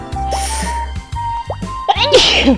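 A sharp sneeze bursts out close by amid tonal electronic sounds and brief vocal noises.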